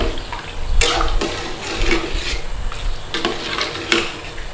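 Peas simmering in water in a pot are stirred steadily, with repeated scraping and sloshing strokes over a bubbling, hissing boil that stays loud and continuous throughout.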